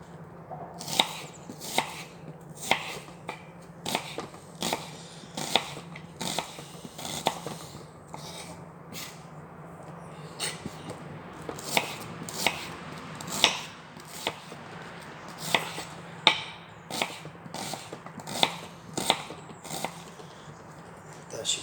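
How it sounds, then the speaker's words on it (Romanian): A knife chopping vegetables for a bean dish on a board, sharp repeated chops in irregular bursts throughout, close and fairly loud, with a bit of talk in the background. "O să tăiem și ardeiul gras."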